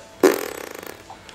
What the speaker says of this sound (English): He just farts as soon as I hit the ball.